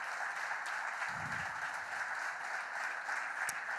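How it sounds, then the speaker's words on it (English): An audience at a panel event on the housing crisis applauds, a steady wash of clapping heard at a moderate distance with no break. "Let's give them a round of applause"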